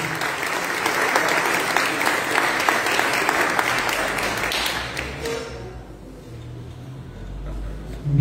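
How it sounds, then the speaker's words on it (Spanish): Audience applause at an event fills the first five seconds as a dense wash of clapping, then fades out. Low room noise remains afterward. "Un aplauso para Pablo Pérez."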